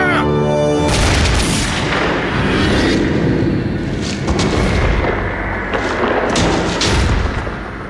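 A firing squad's rifle volley in a dramatized German revolutionary execution scene, heard as loud booming gunfire with heavy rumbling bursts and echoing blasts that fill the whole stretch.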